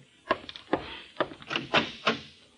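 A series of knocks and door sounds in an old-time radio detective drama, six or seven sharp, close thumps in an uneven rhythm, each with a short woody ring, heard alone.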